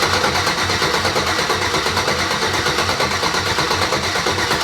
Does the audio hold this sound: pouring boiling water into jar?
no